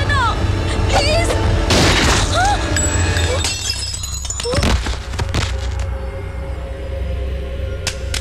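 A gunshot rings out in a dubbed Telugu action film scene, a sharp shattering crack followed by debris and echoing impacts, with dramatic effects and background noise continuing afterward.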